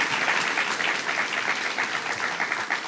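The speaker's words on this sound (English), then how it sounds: "Give the Assemblyman a round of applause." Steady applause from an audience at a governor's bill-signing event held at a laborers' union hall, continuous clapping of moderate loudness throughout with no break.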